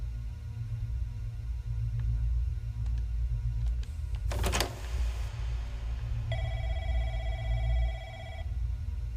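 A telephone rings in the video game Wild Unknown, a bright repeating electronic trill sounding alone over a low ambient hum, preceded by a short burst of clattering noise.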